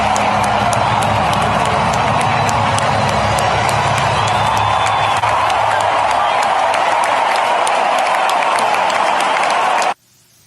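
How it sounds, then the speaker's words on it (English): A large crowd gives sustained loud applause and cheering for President Trump, dense and steady clapping filling the whole span before cutting off abruptly near the end. "Here's President Trump getting applauded"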